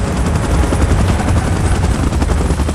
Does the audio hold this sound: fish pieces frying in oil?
no